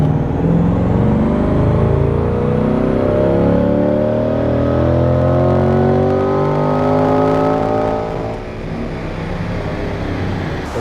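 A C8 Corvette engine roars through a fifth gear pull on a chassis dyno, revving loud and close with a steadily rising pitch that sustains for about eight seconds before easing off.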